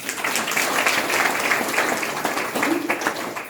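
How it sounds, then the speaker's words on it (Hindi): A crowd at a Maha Shivratri festival gathering claps together, a dense, continuous burst of applause at steady loudness, with some voices mixed faintly underneath. "तो अपने लिए तालियां बजाओ।"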